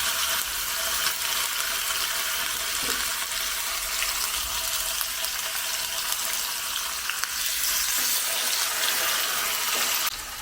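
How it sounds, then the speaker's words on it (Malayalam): Pieces of seer fish (neymeen) frying in hot oil over a medium flame, a loud, continuous hiss and crackle that holds steady throughout with no talking. "എണ്ണ ചൂടായി നമുക്ക് അതിനകത്തേക്ക് ഈ മീനിൻ്റെ പീസുകൾ ഓരോന്നായിട്ടിട്ട് ഫ്രൈ ചെയ്തെടുക്കാം"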